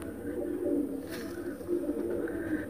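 Pigeons in a loft give soft, low repeated coos, near and steady, with faint background rustling.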